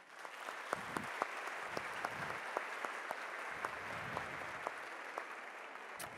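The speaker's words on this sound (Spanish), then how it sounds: "Un fuerte aplauso para ella." Audience applause at a Demand Solutions Santo Domingo 2017 talk on video games, greeting Belén Kaczorowski; steady crowd clapping with a few sharp individual claps standing out, moderately loud and without speech throughout.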